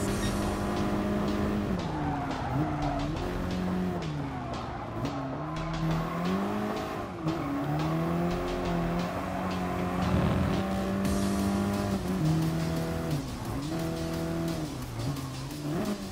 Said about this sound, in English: Not used to driving in Gran Turismo like this.